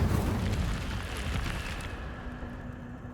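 A burst of fiery magic from the Incendio spell in Hogwarts Legacy, a loud rushing whoosh at the start that thins into a fading crackle over about three seconds, heard alone.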